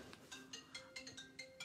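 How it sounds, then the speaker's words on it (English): A mobile phone rings indoors, a short repeating electronic tone pattern pulsing about every fifth of a second, fairly faint and heard alone without talk. "Oh, and there goes my phone."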